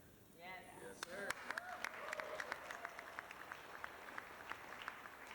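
Wedding guests at a toast in a mansion reception hall give a thin, scattered round of clapping, sharp individual claps continuing steadily after a voice speaks at the start.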